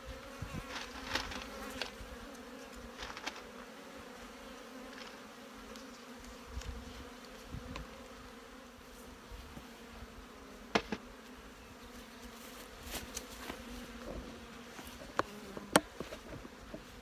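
Honey bees hum and buzz inside a hive in May, a soft steady drone with scattered nearby wingbeats and faint knocks of handling, and no voices.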